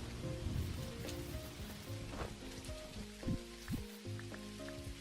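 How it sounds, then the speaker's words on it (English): Steady thunderstorm rain in the game Dinkum patters on surfaces with scattered droplets, over soft melodic background music, with no voices. "You can hear the thunderstorm already."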